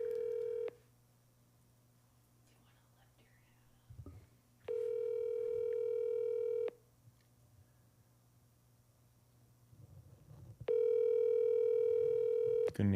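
Three long steady telephone tones sound during a radio call-in, each lasting a couple of seconds and separated by quiet gaps with faint background noise, the last one loudest.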